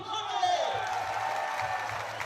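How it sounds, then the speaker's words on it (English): Crowd at a blind football European Championship match roaring as the German team is announced, a distant swelling cheer held under an announcer's speech. "You can hear the roars in the background."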